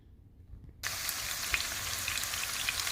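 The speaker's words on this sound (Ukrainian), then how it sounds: "підсмажуємо спочатку цибулю" Chopped onion hits hot vegetable and sesame oil in a pan and breaks into a bright, steady sizzle with scattered crackles and pops after a quiet start, close by with no talking.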